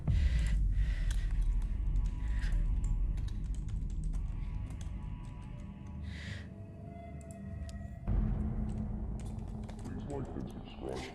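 Rapid, close keyboard typing clatters in bursts over a steady low hum at a Halloween card-crafting desk, with a voice talking at times.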